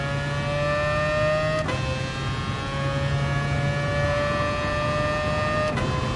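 Race car engine in the Gran Turismo Sport video game, a steady high whining drone with layered harmonic tones and brief gear-shift dips, loud and continuous with no talk.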